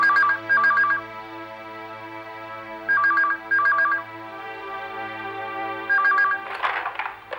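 A phone ringtone plays as short repeated bursts of bright electronic tones, three rings spaced about three seconds apart over a low steady background hum, close and loud, with no one speaking.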